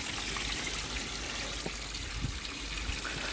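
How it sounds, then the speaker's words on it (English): Water trickles and splashes steadily as an aquarium air pump filter is flushed out, starting quieter and rising after a moment, close and continuous with no talking. "I've just come out to get this filter to flush."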